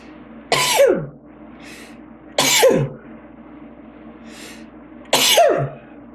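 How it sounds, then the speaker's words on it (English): A person sneezes three times at evenly spaced intervals, each sneeze loud and close with a brief quiet gap between. "I apologize for the sneezing there."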